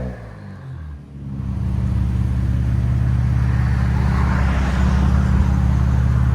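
A 2023 Nissan Z with its exhaust X-pipe deleted revs loudly and close by, climbing from idle into a sustained, raspy high-rpm drone that holds steady for several seconds.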